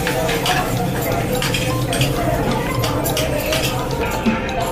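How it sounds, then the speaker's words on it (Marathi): Tempering poured into a vada pav potato filling and stirred in, with steady clinking and scraping of a spoon against a metal pan throughout a busy home kitchen. "आता फोडणी दिलेली मम्मी टाकते."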